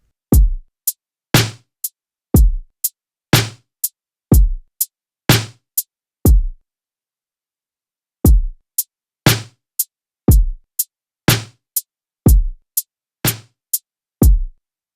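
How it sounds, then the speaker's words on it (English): A programmed boom-tap drum beat on a Maschine Plus now carries added hi-hat ticks between the deep kicks and crisp snares, a steady groove playing alone with a brief gap partway through. "So if I play with the hi-hat, it sounds something like this here."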